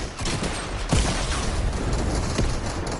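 Sharp gunshots from Fortnite gameplay crack out as a few distinct bursts over a constant noisy game background, loud and close in a short, busy stretch.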